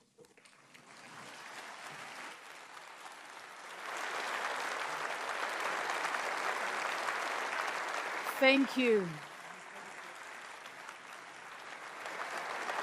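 An audience at a NATO summit in Ankara applauds the Ukrainian President with sustained, dense clapping that builds and holds steady. A brief voice speaks near the start, and a short tonal sweep cuts through near the end.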